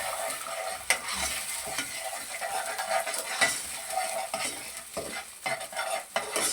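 Vegetables being stirred and tossed with salt, black pepper and red chili in a hot pan for a vegetable sandwich filling: a steady close sizzle with repeated scraping and clinking strokes of a spoon, no voices.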